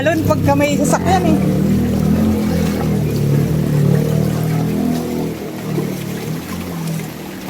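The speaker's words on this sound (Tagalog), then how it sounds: "Kakaroon ng alon pagka may sasakyan" A vehicle pushes through floodwater on a street in Cainta after a night of rain, sending a continuous wash and slosh of waves past, loud and near, while a person talks over it.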